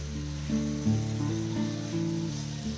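Juicy chicken pieces sizzle and fry in a pan, a soft steady hiss beneath a background tune.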